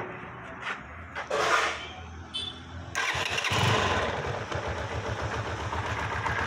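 An AKT CR4 motorcycle engine cranks with a few short starter bursts, then catches and settles into a steady, close, rhythmic idle with a throbbing low pulse.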